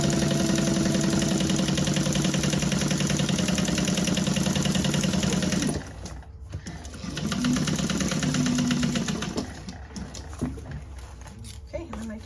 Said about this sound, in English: gonna just top stitch these pockets